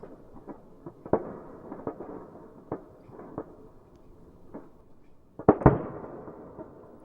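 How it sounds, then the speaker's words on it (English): Scattered fireworks pop and bang at a distance, irregularly spaced, with a louder cluster of bursts near the end. "It's got very fun exploding sounds of the fireworks in the distance."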